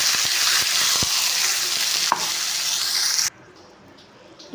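Ground chutney paste hits hot oil tempered with urad dal and curry leaves, giving a loud, dense sizzle with scraping stirs and a spoon knock. The sizzle cuts off suddenly to a quiet, low hiss.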